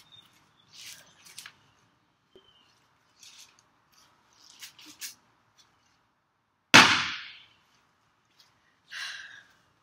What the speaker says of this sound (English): have you ever seen someone smash an Apple Watch like this?